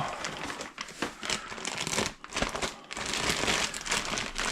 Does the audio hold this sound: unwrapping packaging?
yes